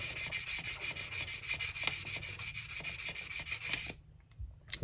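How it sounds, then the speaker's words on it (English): Sandpaper rubs back and forth over a crown in quick, steady rasping strokes, close and clear, before stopping abruptly near the end, leaving a quiet tail with a few light touches. "You don't have to use a sanding block. You can just use sandpaper."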